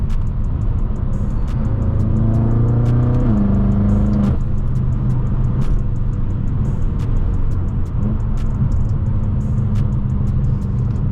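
A tuned 800 HP BMW M6 engine accelerates through New York City traffic on the FDR Drive, revving up through the gears in rising pulls with a deep close rumble and periodic ticking clicks.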